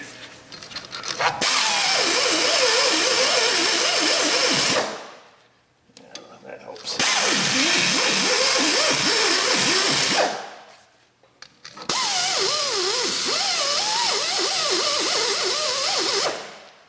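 A power tool cleans around the wheel hub studs of a Ford Explorer Sport Trac, running in three loud bursts of several seconds each with short gaps between, its whine wavering as it grinds against the metal.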